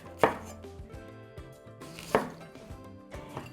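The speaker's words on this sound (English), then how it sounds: "And cut into thick slices" A knife cutting a green bell pepper into thick slices on a cutting board, a few distinct sharp chops spaced apart with softer knife taps between them, close and clear.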